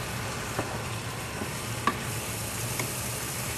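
Fish laid in a hot pan with tomatoes fries with a steady, even sizzle, close and continuous, with a few faint clicks of utensil against the pan and no voices.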